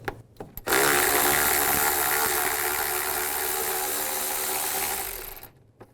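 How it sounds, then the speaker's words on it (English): A 10mm socket on a power tool or ratchet backing out bolts during radiator removal on a 2005-15 Nissan Xterra, a loud continuous whirring buzz lasting about five seconds before winding down, with no talk. "Take these 2 bolts out right here, the 10mm. Use a 10mm socket."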